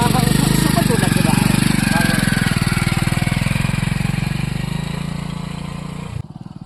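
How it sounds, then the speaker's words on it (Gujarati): A motorbike engine cranks over and over but fails to catch, making a loud, rapid, chugging churn that slowly weakens before cutting off abruptly near the end, with a voice talking over it. "જો બાઈક ચાલુ નહીં થતું."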